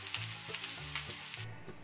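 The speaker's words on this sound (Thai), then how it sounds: "เราก็จะนำเบคอนนะคะมาทอดให้กรอบนะคะ" Bacon sizzles and crackles steadily in a hot pan, with a low hum underneath and occasional stirring scrapes, close up and without voices.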